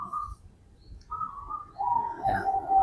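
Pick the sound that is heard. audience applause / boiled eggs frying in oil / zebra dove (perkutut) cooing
zebra dove (perkutut) cooing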